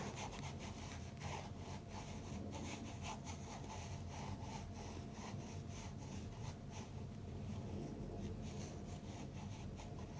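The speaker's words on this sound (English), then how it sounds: "I'm also kind of curious to know how much of my charcoal scraping noises you will hear with this mic." Charcoal scraping across paper during painting work in an art studio, heard as faint repeated scratchy strokes over a steady background hiss, quiet and close, with no talking.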